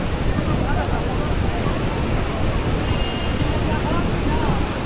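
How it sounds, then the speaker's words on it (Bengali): Ocean waves and strong wind on the beach at Old Digha at night, a dense, continuous roar of surf with heavy wind buffeting the microphone. "যেমন জোরে ঢেউ দিচ্ছিল তেমন হাওয়া, খুব ভালো লাগছিল।"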